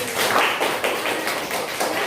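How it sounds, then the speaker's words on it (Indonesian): Students in a classroom clap together for a classmate. The claps are quick and rhythmic, blurring into a steady rapid patter that lasts about two seconds, with no speech over it. "tepuk tangan dulu buat Ali"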